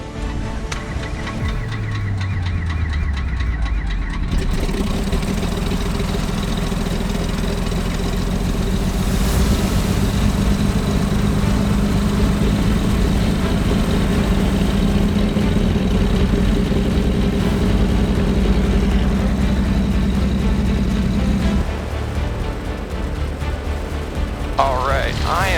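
An aircraft piston engine cranks over on its starter and catches, settling into a loud, steady running drone that holds for most of the stretch before easing off near the end, with people talking over it at times.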